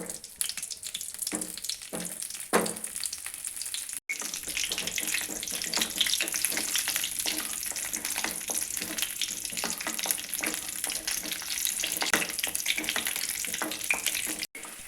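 Gooseberries being stirred and roasted in a pan over a low flame give a soft, continuous sizzle with intermittent scraping and stirring clatter, with one brief break in the sound.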